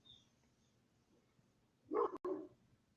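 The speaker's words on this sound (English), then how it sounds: "I need to make here a small break to get a dog inside who barks" A dog indoors gives a short burst of loud barks, two quick woofs close together, after a quiet stretch with no talking.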